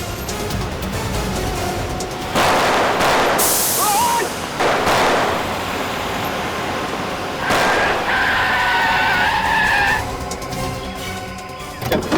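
A car driving fast and skidding in a CID television crime drama, with bursts of tire screech and engine roar in several loud surges amid tense soundtrack noise and no talk heard.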